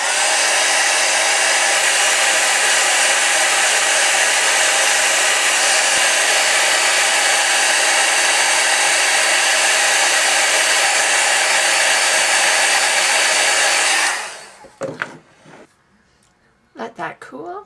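Embossing heat tool blowing hot air over embossing powder for a photo bracelet craft, a loud steady roaring whoosh lasting about fourteen seconds before cutting off, followed by a few soft handling noises.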